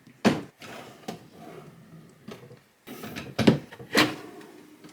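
Vanity drawer with a marble top sliding open and shut several times, a series of close wooden thumps and rolling slides separated by brief pauses.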